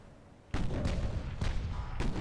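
Naval guns fire in Ultimate Admiral: Dreadnoughts, three heavy booming salvos at regular intervals, each with a rumbling tail that lingers under the next.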